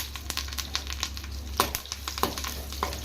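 Tempering spices with crushed garlic cloves and a sprig of curry leaves fry in hot oil for an ginger and green chili chutney, a close steady sizzle broken by sharp pops and crackles at irregular moments.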